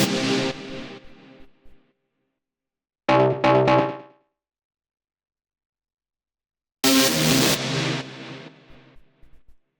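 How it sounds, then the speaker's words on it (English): Short techno bass stabs in a grooving style arrive as three separate punchy bursts with silence between them, each decaying quickly. They are loud and heard alone. "The next thing we have here are these bass stabs,"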